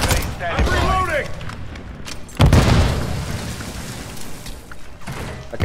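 A grenade goes off in Call of Duty MW3 multiplayer, one heavy, sudden boom that rolls away into a rumbling tail. Battlefield clatter and voices run around it.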